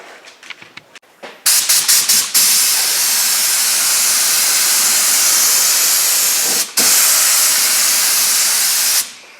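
Spray gun laying a heavy primer coat onto the hood of a junkyard Cadillac, a loud steady hiss in long bursts with brief breaks and a few short taps before it starts.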